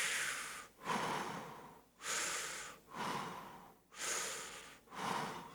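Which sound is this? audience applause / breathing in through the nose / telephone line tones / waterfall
breathing in through the nose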